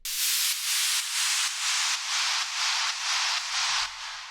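A bright, airy sidechained downlifter noise sweep pulsing in a steady rhythm, ducking about twice per second, with a low pumping thump under it, fading at the end.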